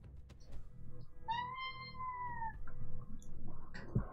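A cat gives a single drawn-out meow lasting about a second, fairly faint and set against low background rumble and scattered small noises.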